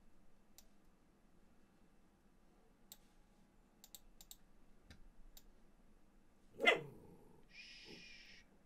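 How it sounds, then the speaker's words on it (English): A single dog bark sounds from a distance, quiet and brief, against light keyboard clicking and mouse taps in a room, followed by a short electronic tone. "My dogs will bark at nothing."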